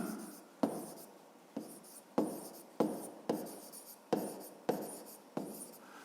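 Chalk or pen writing numbers on a board during a fifth-grade maths lesson, a series of quick scratchy strokes and taps in an uneven rhythm, close and quiet.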